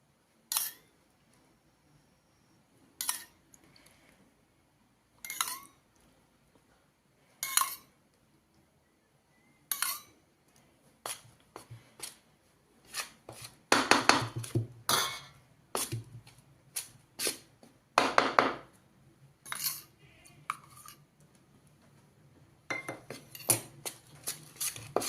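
Flour is stirred with hot oil in a metal bowl for karanji dough, giving irregular clinks and scrapes of a spoon against the vessel. They come sparse at first, then in denser clattering bursts, close and fairly quiet.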